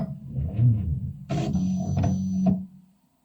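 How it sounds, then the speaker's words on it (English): A PSE-3000 pick-and-place machine loads nozzle tip 502 onto its first nozzle: a low mechanical rumble, then about a second of steady motor whine with faint tones that cuts off abruptly, followed by near silence. "I will try to load the nozzle tip 502 on the nozzle in 1."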